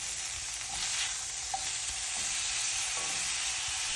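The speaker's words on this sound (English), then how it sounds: "Add a little olive oil and proceed to sear." Steak searing in olive oil in a hot pan, a loud, steady close sizzle with faint crackles and a couple of small pops, no voices.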